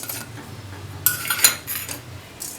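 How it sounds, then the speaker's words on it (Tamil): Moong, chana and toor dal are dry-roasted together in a pan, with a brief scrape and clatter of a spoon stirring against the metal, close by and without talk. "3 பருப்பையும் ஒன்றா போட்டு வறுத்துக்கலாம்"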